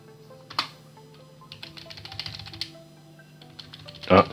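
A command is typed on a computer keyboard in AutoCAD, a scatter of light, close key taps under a quiet speaking voice, ending in a louder burst of clicks.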